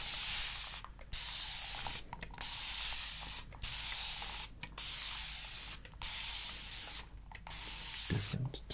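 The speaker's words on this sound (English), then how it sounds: "the plastic and the tube inside and the spray trigger motion" Plastic spray bottle with trigger pumped again and again, giving a run of close, soft hissing bursts in a slow steady rhythm, each spray broken by a short quiet pause.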